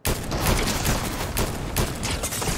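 Continuous rattling gunfire in the video game Fortnite, a dense run of rapid shots with a few louder bursts, close and loud throughout, with no talking.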